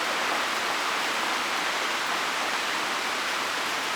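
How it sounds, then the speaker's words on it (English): Heavy rain pouring down as a thunderstorm arrives, a dense, constant hiss of falling water, loud and unbroken with no voices. "here comes some heavy rain"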